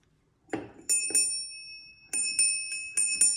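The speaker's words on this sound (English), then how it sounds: "It's a bell pull." A crewel-embroidered bell pull rings its small bells, with a few clinks followed by several bright, sustained chimes in irregular bursts, close and fairly quiet with no talk.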